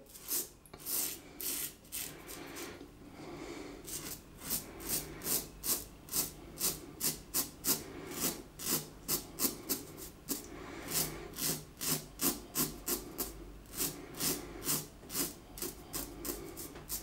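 A Merkur 37G slant razor scrapes against the grain of stubble in quick, crisp rhythmic strokes, close and clear, with a brief pause before a long run of regular scratchy passes.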